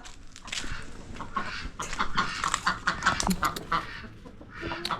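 Chickens and ducks cluck and chatter busily close by while feeding, a dense overlapping mix of short calls with no talking.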